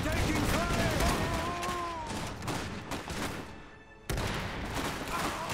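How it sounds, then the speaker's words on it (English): Sustained automatic gunfire in the Iron Harvest strategy game, a dense run of rapid shots under a busy battle mix, with voices talking over it. "Heck yeah, machine guns."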